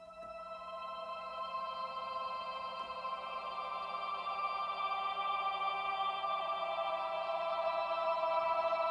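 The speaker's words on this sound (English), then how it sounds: "I'm kind of creating a really blurred, playable, ambient texture" An ambient texture built from spectral processing and a pitch-controllable resonator, blurred into a smooth, gradually swelling drone of held tones, fairly soft with no talking.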